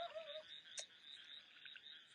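Frogs croak in a steady, faint chorus, with one brief sharper call standing out early on, quiet and distant with no other sounds.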